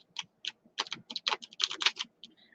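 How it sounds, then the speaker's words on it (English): A deck of cards is shuffled up close in a quiet room, a quick burst of crisp, clicking riffles and taps in an irregular rhythm lasting a couple of seconds. "I'm going to shuffle up these cards like this"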